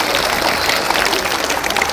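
A rural Marathi speech audience claps in a dense, continuous patter, loud and close, with no voices standing out.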